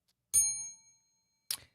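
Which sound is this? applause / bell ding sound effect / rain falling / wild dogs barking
bell ding sound effect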